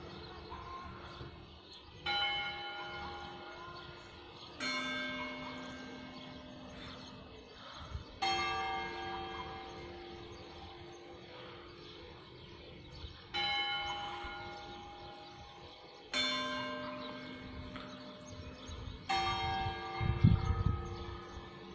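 A church bell in Beniparrell tolls a death knell in slow, evenly spaced strokes. Each loud, ringing strike hangs and fades before the next, with a few quieter knocks in between and no voices.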